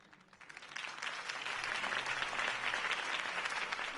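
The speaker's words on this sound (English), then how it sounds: "If only Mr. Wayne, my campaign's largest backer, could have heard that applause" Crowd applause from the video game Batman The Telltale Series, rising quickly after a brief lull into steady, dense clapping that holds on without a break.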